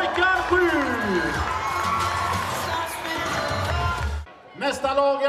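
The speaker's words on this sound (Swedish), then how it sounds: "Ge dem applåder, pojkar 7!" A crowd at a Swedish handball club's season-end event, Kärra HF, claps and cheers for team leaders on stage, with loud whoops and children's shouts mixed in before the noise briefly drops and picks up again.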